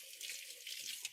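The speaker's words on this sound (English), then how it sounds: "Give my hands a quick rinse." Water runs steadily from a kitchen tap as hands are rinsed under it during meatball preparation, a continuous close hiss lasting about a second, with no talking.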